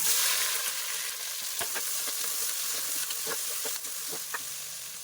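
Sliced onions fry in oil in a pressure cooker for chicken biryani, giving a loud continuous sizzle with scattered sharp crackles and spits close by.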